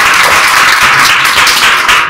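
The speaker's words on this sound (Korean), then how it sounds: "저희 박수 한번 치고 끝내도록 하겠습니다" Applause from an audience closing a community event in Korea, a dense steady wash of many hands clapping at close range, loud and continuous throughout with no talk over it.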